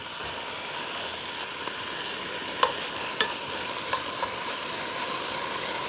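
Meat sizzles steadily in a preheated pot while being stir-fried for gochujang stew, with a few light clinks of a utensil against the metal.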